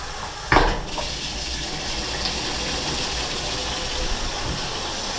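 Hot water runs steadily from a bathroom tap in a rushing, even stream after a brief thump at the start, with no talk.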